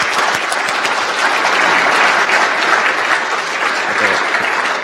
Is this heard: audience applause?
yes